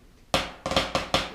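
Snare drum playing a drag rudiment, one sharp opening stroke, then a quick grace-note pair flamming into the next accent, with two more crisp hits following, close and dry.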